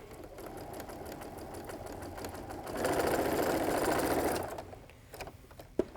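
A sewing machine stitches a quarter-inch seam through pinned quilt fabric, a steady mechanical whir that swells louder and busier midway before dropping back to a softer hum with a few small clicks at the end.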